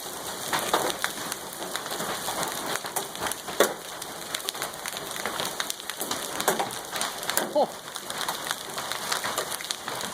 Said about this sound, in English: Look at the size of this hail.